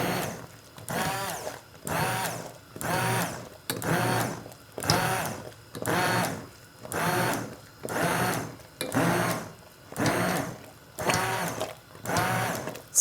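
Blender pulsing cooked pears for pear honey, about eleven regular bursts of whirring motor, each roughly a second long with short pauses between, close and fairly loud with no talk.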